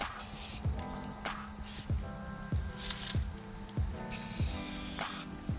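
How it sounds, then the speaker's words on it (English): A Rust-Oleum spray paint can with its stock cap hisses in a series of short, repeated bursts, close and steady, with low thumps between sprays. "I just have the stock cap on this crappy can of spray paint just to show you how it sprays"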